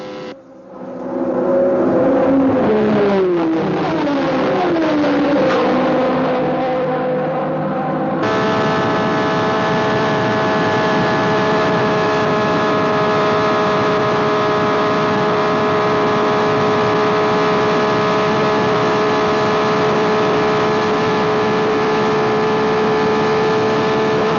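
A 1966 Formula One race car at speed on the banked Monza track, its engine a loud, steady high-pitched drone with a rising, shifting pitch early on before settling into a sustained roar.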